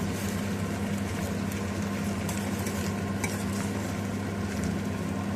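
Naarthangai citron pieces frying in oil on a low flame for pickle, giving a steady, close sizzle with bubbling that runs evenly from start to finish and no talking over it.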